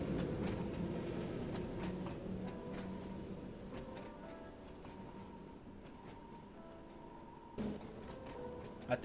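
An Island Line Class 483 electric train in Train Sim World 2 pulls away after the brakes are released and power is applied, a steady rolling rumble with rail clicks that eases slightly before a few sharper knocks near the end.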